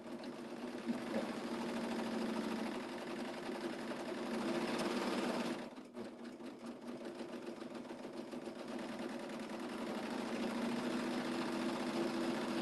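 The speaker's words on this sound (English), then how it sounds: "with that blade on the serger, it's doing all of that trimming work so nicely" A serger stitches fabric and trims it with its blade, a steady close mechanical whir that briefly drops out and then starts again, running with no talking.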